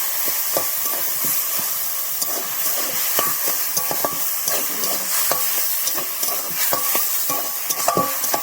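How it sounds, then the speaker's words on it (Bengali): Taro leaves and small shrimp frying and being stirred in a pan: a steady sizzle and hiss with frequent scraping clicks of a spatula, close and fairly loud, no voices. "ভালো করে এটাকে আর একটু কষিয়ে নেবো। নিয়ে এই যে কচু পাতা সেদ্ধটা দিয়ে দেবো।"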